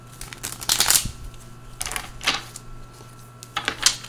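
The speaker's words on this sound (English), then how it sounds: "So I'm going to grab some more tarot cards to clarify each one." Tarot cards are handled and shuffled close by in quick riffling bursts with short pauses between them, and no one talks.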